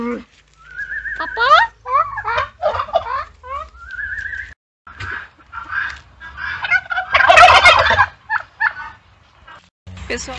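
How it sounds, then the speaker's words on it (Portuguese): Turkeys gobble on a farm in a run of rising, warbling calls, loud and near, with other poultry sounds and people talking between bursts. "Olha os perus. Olha o tamanho daquele ali."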